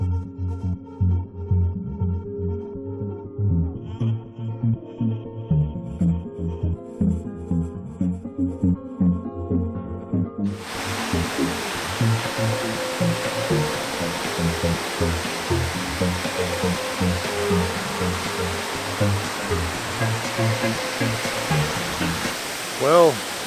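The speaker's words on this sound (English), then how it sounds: "Right now we are at Falling Springs Falls." Falling Springs Falls in Virginia roars as a steady, loud, broadband rush of falling water that starts abruptly partway through, with a voice talking before it and under it.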